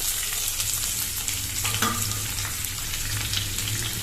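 Small onions frying in hot oil in a kadai with crushed garlic and fennel, a dense, close sizzle with a brief stirring clink partway through and no talk.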